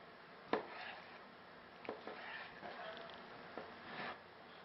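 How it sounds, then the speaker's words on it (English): A knife slices raw chicken into strips on a cutting board, giving a few faint, separate thuds and taps with quiet gaps between them. "we're going to cut our meat lengthwise into strips"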